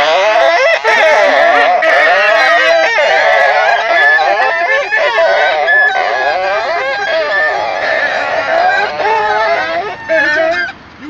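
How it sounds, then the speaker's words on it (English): Heavy friction on the string of a friction string instrument played in the street in Prague gives a loud, wavering, squealing and groaning tone with sliding pitch that runs continuously for about eleven seconds. "put a lot of friction on the string when you do like this"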